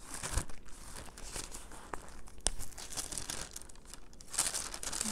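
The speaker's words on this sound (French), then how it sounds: "le bruit des feuilles" Paper sheets being handled and turned during a church sermon, soft crinkling and rustling with a few sharper crackles, faint and close, with no talking over it.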